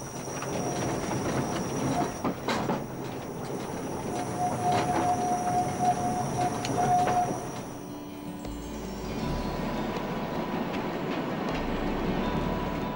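A freight train on the Muskau forest railway rolls past with rhythmic wheel clatter, brief squeals and hiss. It is loud and steady throughout, and the tone shifts lower toward the end.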